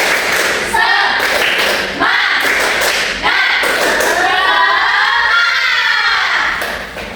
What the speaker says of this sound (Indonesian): Kita kasih tepuk semangat dulu tapi jadi depan.